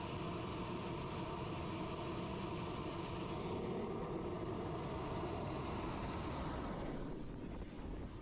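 A radio-controlled jet model plane's engine runs at full throttle, a loud, steady roaring whine with a rising high tone that climbs toward the end and drops away in the final second, with no talk over it.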